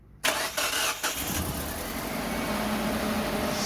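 A 2010 Mitsubishi Triton engine cranks briefly and catches after an oil change, then settles into a steady, loud idle with a low hum, close by and with no talking.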